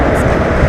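A Madgaon–Mangalore Central train rushes past close by in a loud, continuous rumbling roar while another train waits on a loop line at a crossing.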